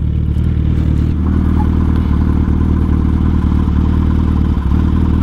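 A Suzuki Hayabusa inline-four motorcycle engine runs steadily and loudly nearby, a dense low hum with some mechanical clatter and a brief dip in revs, no talking over it.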